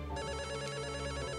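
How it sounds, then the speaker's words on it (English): Video game telephone rings with a bright, trilling electronic bell, close and clear, starting abruptly and sounding continuously. "You finally picked up the phone."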